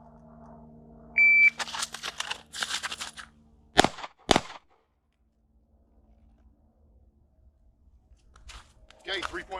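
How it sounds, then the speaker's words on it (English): At a Massachusetts law enforcement handgun qualification range, a timer beep is followed by two sharp, close handgun shots in quick succession. Voices are heard before and after the shots. "Going to be moving up to the 10, firing these rounds."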